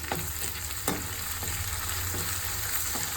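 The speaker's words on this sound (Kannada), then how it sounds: "ಪುದೀನ ಸ್ವಲ್ಪ ಕರ್ಬೇವು ಸೊಪ್ಪು ಹಾಕೊಂಡು ಚೆನ್ನಾಗಿ ಇದನ್ನು ಫ್ರೈ ಮಾಡ್ಕೊಬೇಕು" Onions, mint and curry leaves fry steadily in oil for an egg sambar, a close, continuous crackling sizzle with a few brief stir clatters and no voices.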